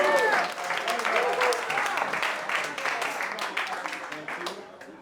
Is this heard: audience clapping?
yes